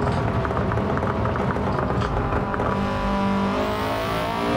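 Modified race car engines roar in the Gran Turismo 7 racing game: a loud, continuous, dense engine drone with layered tones that shift slightly in pitch as the cars hold speed, and no pauses.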